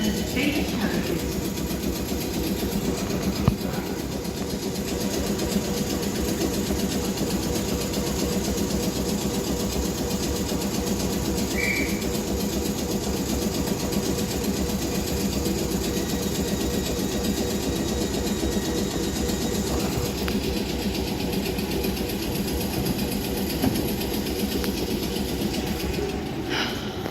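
Inside a South West Trains Class 455 electric train with eight carriages, a steady loud rumble and rattling clatter run unbroken throughout, with faint voices now and then.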